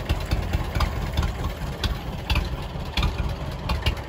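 A John Deere 630 tractor engine idles at a Christmas parade, a steady rumbling chug with faint knocking pulses under outdoor street noise.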